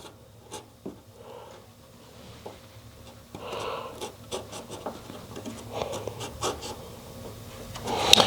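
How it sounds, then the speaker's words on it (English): A hobby knife cuts vent holes into a model aircraft hatch for an OMP Super Decathlon, giving faint, intermittent scratchy scrapes and small clicks. Short strokes come in irregular bursts, growing a little louder toward the end, with no speech. "Now we're going to take our hobby knife and we're going to cut these holes."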